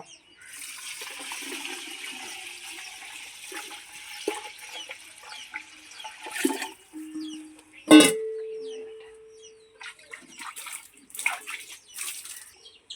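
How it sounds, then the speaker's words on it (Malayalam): Water splashes and pours steadily into a cooking pot for several seconds, then fades. A few clinks and brief sounds follow as the pouring stops. "നമുക്ക് വെള്ളം ഒഴിക്കാം കേട്ടോ."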